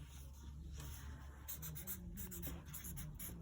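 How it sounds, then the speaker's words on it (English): A pencil or pen scratches across paper in a quiet room, with short irregular strokes and small pauses, faint and close, and no talking. "You can write it down."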